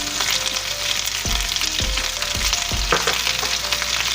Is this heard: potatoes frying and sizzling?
yes